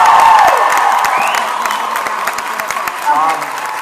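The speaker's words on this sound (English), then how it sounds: "let's give them a big round of applause" Audience at a Dragon*Con 2011 Supernatural convention panel breaks into loud applause and cheering, a dense wash of clapping with scattered whoops and shouts that stays steady, then fades slightly, throughout.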